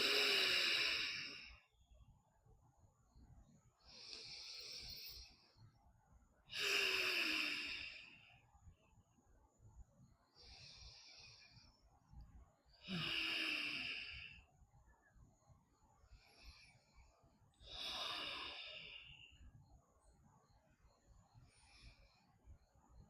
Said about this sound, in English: I'm going to breathe here.